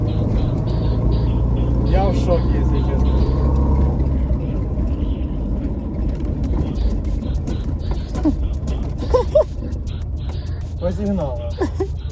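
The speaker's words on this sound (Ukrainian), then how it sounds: "машина завелась, завелась" A VAZ 21099 car that had sat unused for a year runs with a steady low engine rumble throughout, loud and close, while people talk over it.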